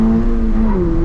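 A 2022 Toyota GR 86 sports car engine on throttle: a loud, steady, close-up drone whose pitch sags slightly and then holds, with no talking.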